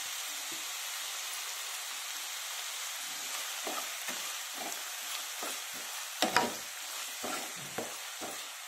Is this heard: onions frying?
yes